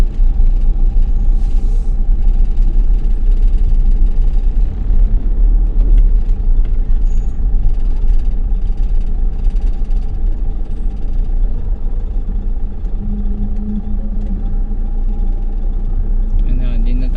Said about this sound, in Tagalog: Traffic na doon.